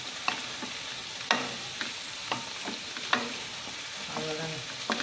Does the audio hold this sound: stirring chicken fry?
yes